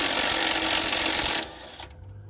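Steady whirring of a power tool spinning off an 18 mm nut from the rear shock bolt of a BMW F30 sedan, loud and continuous for over a second before cutting out, followed by a brief clink.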